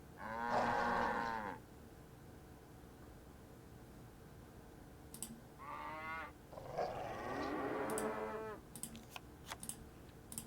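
Cows moo in the Nancy Drew: Captive Curse video game, one long close moo followed by two more overlapping moos, with sharp clicks scattered through the quiet gaps.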